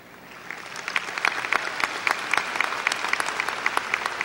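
An audience at a 2016 United High School graduation claps in steady, dense applause that swells from quiet to full within a second and holds, sharp individual claps standing out near the front.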